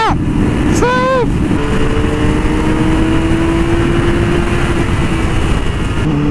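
A newly bought motorcycle rides along with steady, loud engine drone and wind rush close by, pitch briefly rising and falling near the start as the rider shifts, with no talk.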